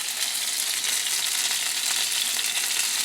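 Haddock seasoned with Japanese seven-spice stir-frying in a hot pan with bok choy and tomato, a dense, even hiss and crackle of sizzling oil that holds steady and close throughout, with no voices.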